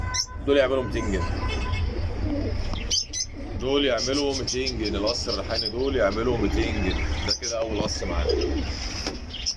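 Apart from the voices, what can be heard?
pigeons cooing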